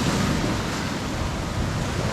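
Ocean surf rolls in steadily at Tembeling Beach on Nusa Penida, a continuous broad wash of breaking waves with some wind buffeting, loud and close with no voices.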